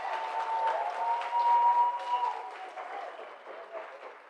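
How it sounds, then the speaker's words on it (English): Warm applause at a grants handover ceremony for the Environmental Investment Fund, a sustained round of clapping from the audience that holds steady before slowly tapering, with a faint voice underneath. "can you please give a warm round of applause to the Environmental Investment Fund"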